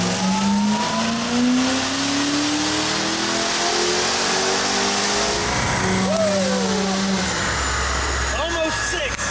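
A modded C6 Z06 Corvette engine revs hard on a dyno, rising in pitch through repeated sweeping pulls, loud and close, with a voice speaking over it.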